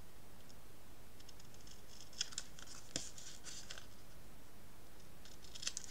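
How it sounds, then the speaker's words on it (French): Scissors snip along the edge of a paper glue tab for a scrapbook album, bevelling it: a few light, crisp cuts scattered over several seconds, faint and close, with no talking. "Je viens biseauter ma pâte de collage."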